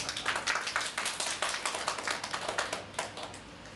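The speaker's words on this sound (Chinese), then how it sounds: "这个掌声欢迎" A small audience in a hypnosis certification class claps to welcome a volunteer to the front. The quick, rhythmic patter is faint and somewhat distant, and it thins out toward the end.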